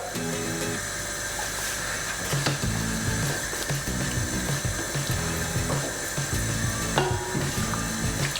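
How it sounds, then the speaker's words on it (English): Beef browning in olive oil in a pan, a steady sizzle with scraping and stirring clatter over background music. "We're just going to add the meat, brown the meat off a little bit."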